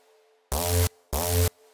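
A synth bass fill sample for a halftime track: two thick, heavily distorted bass bursts, each just under half a second long, separated by a short gap and played alone over a faint background hum.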